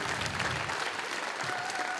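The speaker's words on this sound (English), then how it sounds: "let's give them a round of applause too" Dense, steady applause from the audience at a 5th and 6th grade school band spring concert, a broad wash of many hands clapping at once in a hall.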